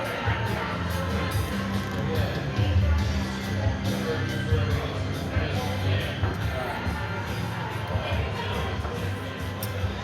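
Crowd noise at a small new brewery, a steady, moderately quiet murmur of many voices and shuffling that stays even throughout.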